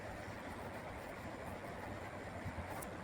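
Train rolling along the tracks around a bend, a steady low rumble heard faintly and continuously, with no talk.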